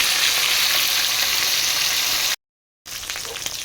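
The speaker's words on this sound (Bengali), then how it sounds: "এক এক করে অন্য পিসগুলোকে আমি ভেজে নেব" Pieces of silver carp fry in hot oil with a loud, steady, close sizzle. It cuts out briefly, then returns with crackling.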